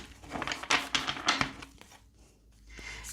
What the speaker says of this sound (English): We're going to give the cards a shuffle.